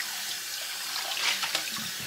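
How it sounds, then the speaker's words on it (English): Warm tap water runs into a kitchen sink while an 11-inch nonstick frying pan is rinsed, a steady close hiss with small splashing variations and no talk. "Just a quick rinse with some soap and warm water."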